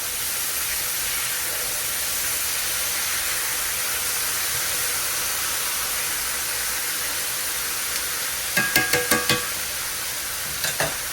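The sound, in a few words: steak frying in a pan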